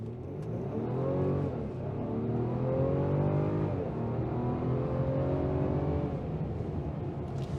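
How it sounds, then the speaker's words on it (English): A 2022 Mercedes-Benz E350 accelerating from a stop at a traffic light, engine note rising smoothly and steadily through the gears, close and loud inside the car for several seconds with no talk. "Those are 0 to 60 basically. It's a nice smooth acceleration."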